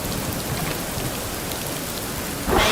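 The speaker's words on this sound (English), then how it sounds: "There's some righteous storms in the game now." A rainstorm in the video game Rising World: steady, dense rainfall hisses evenly throughout, swelling into a louder, brighter rush in the final moments.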